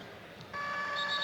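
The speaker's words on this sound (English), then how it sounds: "There's the buzzer." A basketball arena's end-of-quarter buzzer sounds during a 1988 Philadelphia 76ers vs Chicago Bulls NBA game, a steady electronic tone starting partway through and holding to the end over crowd noise.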